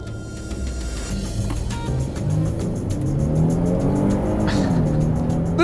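2021 Kia Telluride or Hyundai Palisade SUV accelerating hard through a 0-60 mph run, its engine note climbing steadily and growing louder from inside the cabin.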